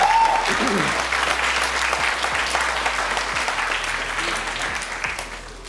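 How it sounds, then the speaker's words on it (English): A studio audience on a talk show bursts into loud, sustained applause with cheering. The clapping hits hard at the start and then fades slowly over several seconds. "the audience switched sides and cheered for Paul"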